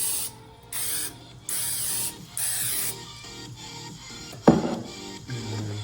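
Cooking oil spray hisses onto a frying pan in several quick bursts, followed by a clunk and some quieter handling sounds near the pan.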